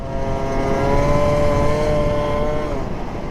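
A Yamaha Super Zuma scooter engine revs high and holds a loud, sustained whine up near its limit, then eases slightly toward the end, recorded close up with no voices.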